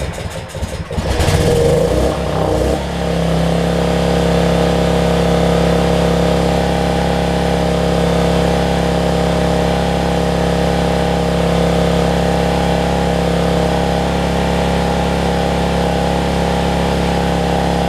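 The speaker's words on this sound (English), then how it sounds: "So we'll see what it does now. If it will crank and run for us." A Generac 7500EXL portable generator with a faulty low-oil sensor cranks over briefly, then catches and settles into a steady, loud, close-up running drone that holds for the rest of the clip.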